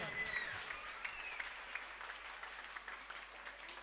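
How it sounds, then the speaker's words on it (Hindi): An audience at a women's group cultural program applauds a donor family, a dense, even wash of clapping from many hands that holds steady throughout at moderate distance. "एक वार तालियों दे वधावी दो परिवार ने"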